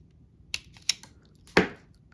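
A Kaiweets wire stripper snips through 18 gauge wire: two light, sharp clicks followed by one louder, crisp crunch of the blades closing, heard close up and alone.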